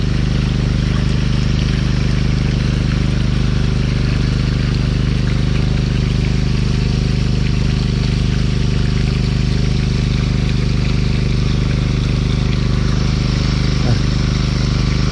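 Irrigation water flows steadily into a furrow in a chili and calamansi field, making a continuous close rushing wash with a low mechanical hum underneath and no break throughout.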